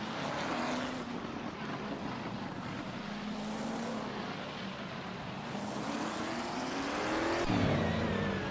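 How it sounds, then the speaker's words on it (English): A 1967 Ferrari 330 P4 race car in a racing video game, its engine a continuous loud drone whose pitch sweeps up and down through gear changes, climbing sharply near the end. "Neroxu is driving a 1967 Ferrari 330p4."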